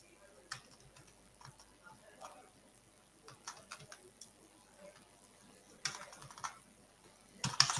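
Someone types on a computer keyboard at a desk while working on CSS code. Faint, irregular clusters of key clicks sound up close, with a louder burst near the end.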